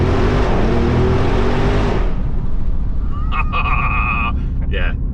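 An Audi RS Q8 SUV engine in its louder RS2 drive mode roars loudly with a heavy broadband rumble, then drops to a lower idle while a few tonal beeps or chimes sound briefly.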